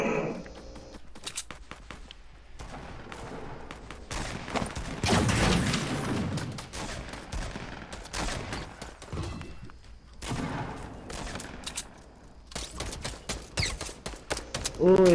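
Shooter-game gunfire crackles in bursts and volleys across the scene, with heavier barrages at intervals, some mechanical clicks and movement noises mixed in, and a voice talking over parts of it.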